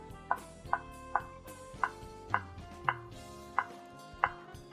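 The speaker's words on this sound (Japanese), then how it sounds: "バターをスライス。" Knife slicing through a block of butter on a cutting board while preparing a chef's baked risotto, eight evenly spaced soft chops landing at a steady rhythm, close and clear with no talk.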